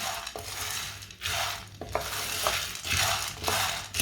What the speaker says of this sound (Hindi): इसी तरह चम्मच चलाते हुए ऐसे भूनना।